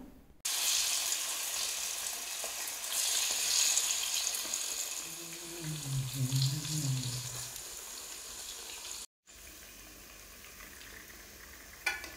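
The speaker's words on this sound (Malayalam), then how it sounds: "മസാല പുരട്ടിയ ഓരോ ചിക്കൻ പീസുകളും ചൂടായ എണ്ണയിലേക്ക് ഇട്ട് കൊടുക്കാം" Masala-coated chicken pieces frying in hot oil in a pan, with a loud, continuous crackling sizzle, a brief dip and then a quieter sizzle after a short break.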